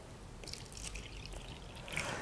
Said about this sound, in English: we're going to fill up these two containers side by side